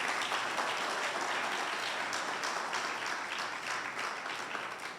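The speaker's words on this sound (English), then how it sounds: "A big round of applause." Continuous applause at a university award ceremony, fairly distant and soft, holding steady before gradually thinning out, with no talking.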